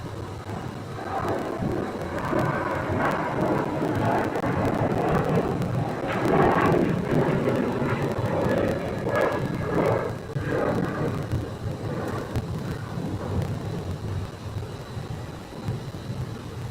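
A Sun Country airliner with a 40th anniversary livery departs Phoenix airport for Minneapolis, its jet roar a broad, distant rumble that swells through the middle and slowly eases off.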